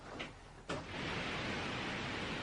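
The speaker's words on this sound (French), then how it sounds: "des écouteurs diffusant ce qu'on appelle un bruit blanc" White noise played through headphones: after a brief muffled start and a soft click, a steady broadband hiss fills the rest, even and continuous.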